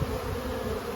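Honeybees swarm over a honey frame lifted from a beehive, a dense, steady, close buzzing drone with no pauses and no voices.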